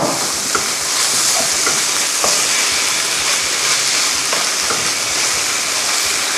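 Pork stir-frying in gochujang sauce gives a steady, dense sizzle and hiss, loud and continuous throughout, with faint scraping of stirring and no voices.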